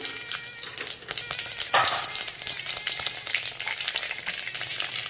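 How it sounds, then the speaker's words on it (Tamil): Mustard seeds sizzle and crackle in hot oil in a pan while tomato chutney is being made, a steady, close, bright frying hiss with no talking. "இதில் கடுகு போட்டுக்கலாம்"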